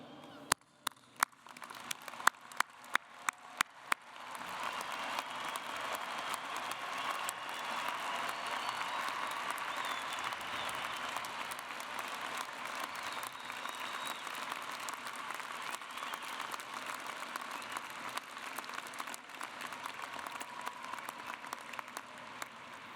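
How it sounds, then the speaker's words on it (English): A commencement crowd at the University of Washington's 2012 ceremony bursts into sustained applause for the graduating class, dense clapping that swells after a few scattered early claps and holds steady and full throughout. "give the first of what I'm sure will be many congratulatory claps for our graduating class"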